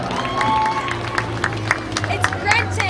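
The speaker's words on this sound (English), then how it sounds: "give Delmer Allen Clark a round of applause" A speedway crowd applauds for racing legend Delmer Clark, a Hall of Fame driver, with steady clapping and scattered cheers mixed with crowd murmur over a low engine or PA hum, while a voice speaks through it.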